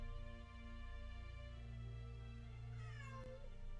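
Cat meowing near a Witcher 3 game running in the background, a drawn-out falling meow near the end over a steady hum of game sound, fairly faint, no talk.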